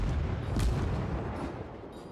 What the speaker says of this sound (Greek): ρίχνει όλα τα κανόνια ταυτόχρονα